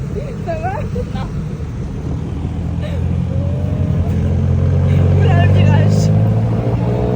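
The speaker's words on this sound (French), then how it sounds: "En direct du tuk-tuk." A tuk-tuk rides through Bangkok traffic, its small engine droning and building in loudness while passengers talk and exclaim over it on a turn.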